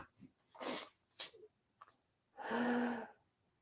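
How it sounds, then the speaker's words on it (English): A person sneezes in a quick sequence: a couple of short sharp inhaled bursts build up, then a loud, full sneeze blast close to the mic, with quiet room tone between. "Now I'm going to sneeze."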